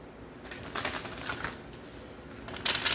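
Tarot cards being shuffled with bursts of crisp riffling and flicking, several uneven flurries over a few seconds, soft and close with no talking.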